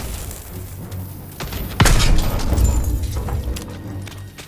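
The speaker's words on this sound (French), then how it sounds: "Ça va péter!" A thermite charge set on a cannon blows up in Call of Duty WWII, a single sharp boom and thud followed by a rumbling roar that lingers over ongoing battle noise.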